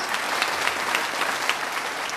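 Seminar audience in Dubai clapping together in a steady, even round of applause, loud and dense throughout with no talk over it.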